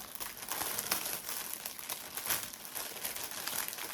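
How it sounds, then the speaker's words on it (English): Plastic thread pack bag crinkling steadily as it is opened by hand, a continuous close rustle with small crackling bursts and no talk. "Sorry, I know people don't like the crinkling, but I do."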